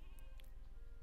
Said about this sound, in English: More sheep down here.